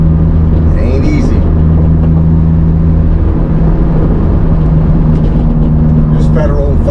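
Honda S2000 with a K24 engine and Federal 595 tires on 17x9 rims, driving back roads in cold weather; a steady droning engine hum runs throughout with a constant tone, loud and close, with a voice talking over it.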